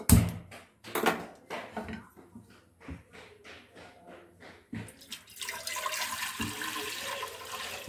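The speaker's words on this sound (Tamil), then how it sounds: "இப்போ வந்து பாத்திரத்தில் தண்ணி ஊற்றிக்கலாம்." Water poured into a cooking pot while preparing a Tamil spinach (palak keerai) gravy, heard as a few splashy bursts followed by a steady, close, continuous stream of running water filling the vessel.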